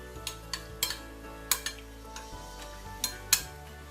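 A spoon stirs a stuffing mixture with balsamic vinegar for stuffed courgettes, giving a series of sharp, distinct clinks against the bowl at irregular intervals over a quiet background.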